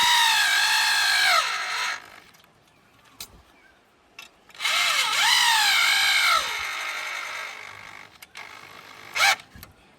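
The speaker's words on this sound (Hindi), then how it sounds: "2 स्क्रू को हम यहाँ पे लगा लिए और इसे ड्रिल मशीन से आराम आराम से टाइट कर लेंगे" An electric drill drives screws into a mounting bracket outdoors, giving two long whining bursts that rise and sag in pitch as the screws tighten, with short clicks and a brief final spurt between.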